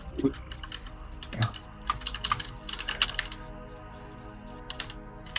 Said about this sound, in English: I need to type all this.